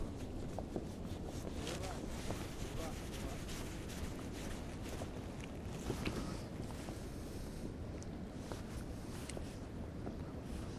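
Strong wind buffeting the microphone on open water while fishing for pike from a boat, a constant loud rushing roar with gusty swells, no clear voices.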